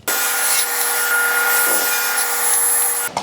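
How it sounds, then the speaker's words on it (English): Saw cutting a square-off end from a wooden board, a steady continuous rasping buzz lasting about three seconds, close and loud. "just cut off that little bit, we can flip it over and cut to our line"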